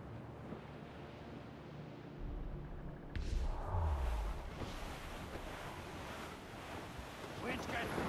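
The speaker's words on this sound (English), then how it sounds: "Wind's getting vicious." Strong wind howling over open sea in Assassin's Creed Rogue, a steady broadband rush with crashing surf that swells louder after a few seconds, low rumbling gusts underneath and a faint voice in the background.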